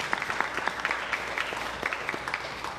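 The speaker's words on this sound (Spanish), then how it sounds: "So, un aplauso." A church congregation at Sunday Mass applauds to honour a 94-year-old mother, giving a soft, steady patter of many hands clapping, heard at some distance in a reverberant room.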